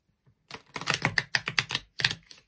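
Small handmade oracle cards are shuffled up close in a quick run of crisp, flapping riffles, a rapid sequence of bursts lasting about two seconds.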